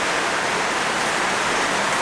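Heavy rain pours steadily into a carport in the Philippines, a dense, continuous hiss of water with no breaks or voices.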